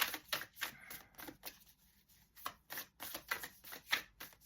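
Tarot cards shuffled by hand in a quiet room, giving repeated crisp riffling bursts and soft flicks in an uneven rhythm, close and fairly quiet, with no talking.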